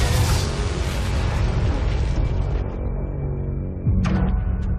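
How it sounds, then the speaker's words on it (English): A car bomb goes off inside a car after a bag is opened, blowing the windshield high into the air. A loud, broadband blast roars and rumbles for several seconds, then a second sharp burst follows near the end. "The impact of the explosion was incredible."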